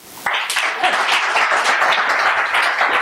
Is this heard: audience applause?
yes